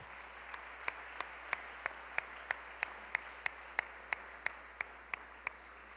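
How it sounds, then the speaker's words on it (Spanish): A church congregation claps in worship as an offering to the Lord, heard as a faint, distant, evenly spaced rhythmic clap at about three per second over a quiet hum. "Dale una ofrenda de palmas al Señor."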